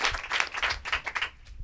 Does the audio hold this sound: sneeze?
no